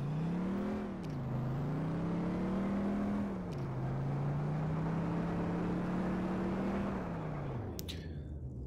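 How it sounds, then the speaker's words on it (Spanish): An American rear-wheel-drive car in the Rigs of Rods simulator drones with a loud, steady engine hum whose pitch climbs and drops with gear shifts and throttle changes, with no voices heard. "este tipo de coches americanos con tracción trasera son bastante complicadillos de conducir"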